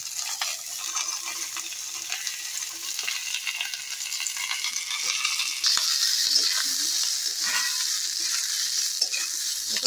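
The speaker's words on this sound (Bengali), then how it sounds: "এখানে বরবটি আর নিয়েছি পেঁয়াজ কলি, এগুলো শিমের মধ্যে দিয়ে হালকা করে ভেজে নেব।" Long beans and spring onions fry with flat beans in a pan, a continuous close sizzle with occasional stirring scrapes, growing slightly louder midway and heard alone without speech.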